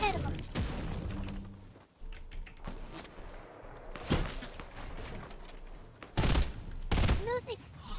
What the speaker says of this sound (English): heavy, heavy incoming fire